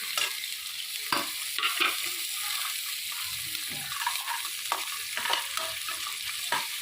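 Sliced onion and three green chilies sautéing in hot oil with cinnamon and cloves for Coimbatore Angannan-style chicken biryani, a steady sizzle broken by repeated scrapes and clacks of a spoon stirring the pan, close and moderately loud.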